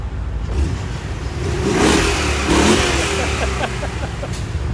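A BMW M5 with a Dinan Stage 2 tune revs nearby. Its loud engine roar swells twice and drops back in between, with a low rumble underneath.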